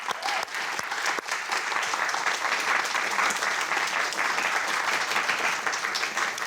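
An audience claps steadily for the Bishop Ireton cheerleaders at a high school quiz show taping, a dense, close burst of applause that holds for several seconds.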